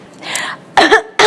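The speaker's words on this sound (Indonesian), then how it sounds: "tadi saya baru batuk doang" A short cough, or a sharp throat-clearing burst, comes close and loud after a quieter stretch, followed by another abrupt burst at the end.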